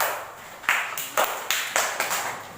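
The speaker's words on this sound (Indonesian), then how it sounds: "tepuk tangan untuk kelompok 3" Schoolchildren in a classroom clap for their classmates in group 3. A few separate, spaced claps stand out over a soft hiss, with no voices.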